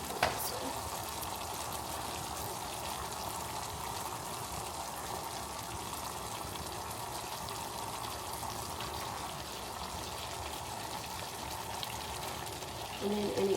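Meat and onions fry in a pot, giving a steady, even sizzle with a watery hiss that runs close and continuous throughout, with no talk over it.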